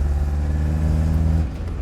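A 1989 Renault Espace engine, roughly 50 horsepower, without turbo and smelling of diesel, floored in third gear: a steady, loud, low drone from inside the cabin that holds for a second and a half before dropping off.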